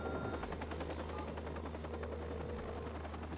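In Watch Dogs, a nearby helicopter beats steadily with a rapid rotor chop over a low drone. The sound is loud and constant, mixed with rattling fire.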